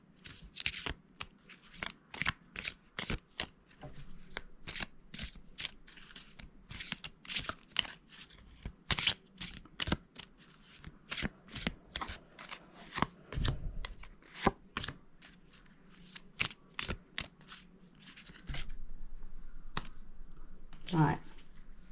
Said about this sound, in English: So I'm just going to pull out the Harry Potter cards now.